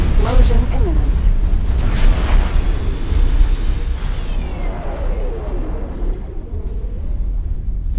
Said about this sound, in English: Dropped 1 proton torpedo and followed it in. Yeah, there we go. Explosion imminent.